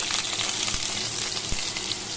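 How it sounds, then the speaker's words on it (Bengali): Potatoes and eggplant fry in a pan with nigella seeds, giving a steady, dense sizzle that holds level throughout, with a couple of small pops and no voices. "এবার এর মধ্যে দিয়ে দিচ্ছি আলু আর বেগুন আলু ও বেগুনটা ভালো করে আগে ভাজা ভাজা করে নেব আমি"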